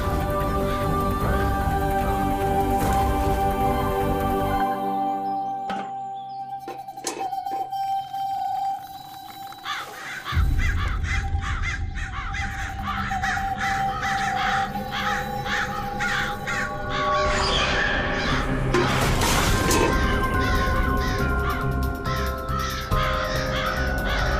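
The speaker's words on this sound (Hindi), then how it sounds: "क्या हो गया कौवों को? विक्षिप्त हो गए क्या?" Agitated crows caw repeatedly and loudly over a rain-like wash, with a dense overlapping chorus that briefly thins midway and then swells again.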